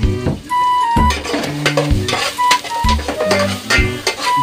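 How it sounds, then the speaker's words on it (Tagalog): Onion and ginger sizzle in a hot pan while being stirred, with loud, close scraping strokes of a utensil against the metal in an irregular rhythm. "bigisan muna natin ang sibuyas at luya"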